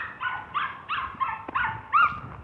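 A small dog barks close by in a quick run of about six sharp, high yips, spaced roughly evenly and separated by brief pauses.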